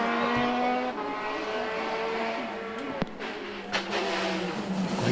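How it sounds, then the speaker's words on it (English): Rally car on a closed stage of the Ulster Rally, engine note dropping and burbling as it brakes for a corner, with a sharp pop partway through, loud and close throughout. "Cautious under braking, we can hear there."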